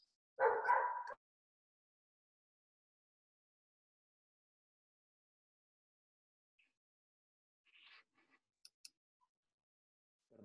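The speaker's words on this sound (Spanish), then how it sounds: "ya empezaron a ladrar los perritos" Dogs barking indoors, with one loud close bark burst at the start, then long silence and a few faint, distant yips and ticks near the end.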